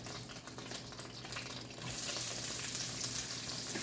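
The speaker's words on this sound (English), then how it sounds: "So now we're going to put in first the onions" Onions frying in a pan for beef yakisoba sizzle steadily, with the hiss swelling noticeably louder about halfway through as they settle into the hot oil, close and continuous with no talking.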